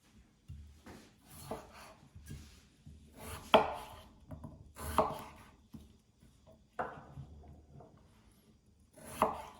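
A knife chops potatoes and onion on a cutting board in irregular bursts of close, crisp strokes with short pauses between them, with no talking.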